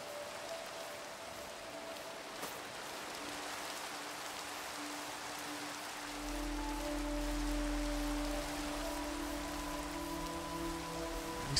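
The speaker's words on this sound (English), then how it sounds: "This will let me get rid of the rain." Steady rainfall in a Minecraft-style blocky video game, a continuous hiss of drops that swells slightly louder halfway through, with faint tonal game music lines running underneath.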